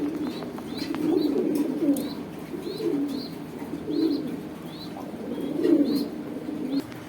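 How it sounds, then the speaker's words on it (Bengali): Racing pigeons coo in a low, throaty rhythm, several rolling bursts one after another, with faint higher chirps in the background. "এখানে দেখতে পাচ্ছেন একবার রেসার কবুতর আছে"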